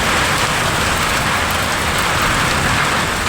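Heavy rain pours steadily during a hailstorm in Taplejung, a loud, dense, unbroken hiss of drops on surfaces, with wind likely mixed into the roar and no voices.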